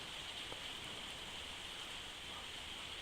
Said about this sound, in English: I'll leave you with the sound of the rain and the ticking clock